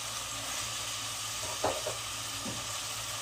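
Bottle gourd sautéing in a hot pan for halwa, giving a steady low sizzle and hiss throughout, with a few soft stirring scrapes near the middle.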